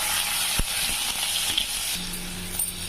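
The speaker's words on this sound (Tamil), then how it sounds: "என்ன வெங்காயம் வதங்கிட்டேன்." Sliced onions frying in a pan for dosa chutney give a steady, soft sizzle with a few faint clinks of stirring, close and alone.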